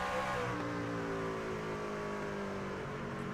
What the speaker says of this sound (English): just listen to the way the engine sings and sounds